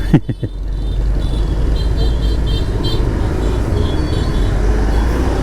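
Road traffic rumbles close by in a steady low wash of engines, with a couple of short bumps or knocks at the start and faint horn-like tones above.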